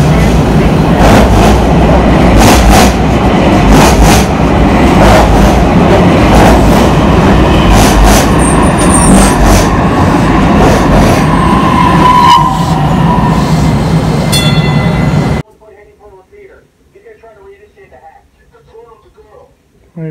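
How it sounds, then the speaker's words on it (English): A train passes close by in Dallas, Texas, a loud sustained roar with rhythmic clickety-clack of wheels and a brief squeal, cutting off abruptly to near quiet where faint voices are heard. "Here comes another train."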